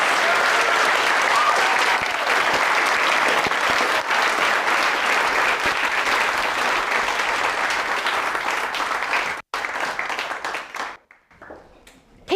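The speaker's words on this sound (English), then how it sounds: "let's give a great big round of applause for our regional finalists" An audience at a Shakespeare performing grand final bursts into loud, sustained applause for the regional finalists, dense clapping filling the hall for about ten seconds before thinning out and fading to a few last claps.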